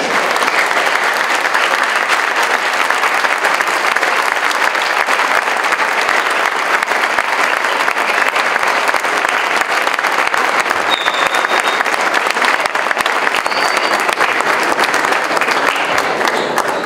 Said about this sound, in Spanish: espero que este aplauso se escuche más fuerte porque va hasta el cielo